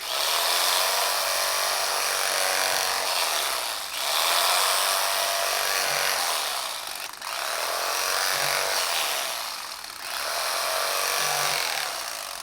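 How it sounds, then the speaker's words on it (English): An electric carving knife hums as it slices through a meatloaf, a steady high buzzing in three long passes, each dropping away briefly before the next cut begins. "this time I'm going to use an electric carving knife because it has less drag on the meat"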